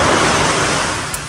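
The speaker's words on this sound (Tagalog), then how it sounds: "Malalaki ang alon." Steady roar of surf filling the whole clip, broad and continuous, with a slight easing toward the end as a wave recedes.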